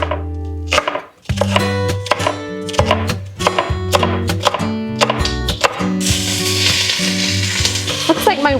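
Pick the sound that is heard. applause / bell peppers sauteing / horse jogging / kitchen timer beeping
bell peppers sauteing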